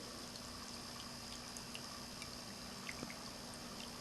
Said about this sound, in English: Lovely stream, no splash, gentle sounds.